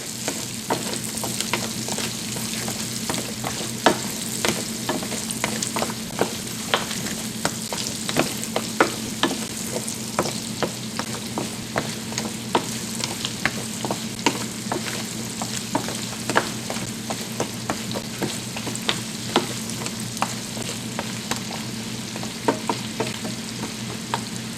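Chicken and carrots fry in butter in a pan on the stove, a continuous close sizzle with many quick pops and spatters scattered throughout, no talking.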